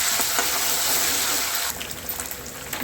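Ginger garlic paste sizzles and spits in hot oil for a boti curry, a loud continuous hiss that thins slightly toward the end, with no voices.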